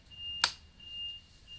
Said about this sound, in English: turn off the switch